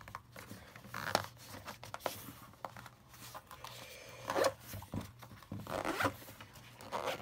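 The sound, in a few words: zipping up Kobalt electronics repair kit case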